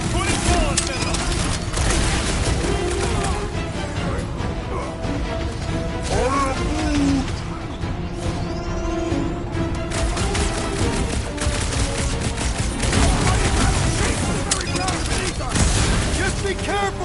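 Gunfire from a soldier shooting waves of creeps in a video game, constant rapid shots and impacts layered with game effects, with voices talking over the battle throughout.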